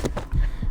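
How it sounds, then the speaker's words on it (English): A heavy, pounding heartbeat from the video game Reverse: 1999, with deep, thudding beats in a close, throbbing rhythm that sounds muffled and low. "feeling her heart pounding louder and louder"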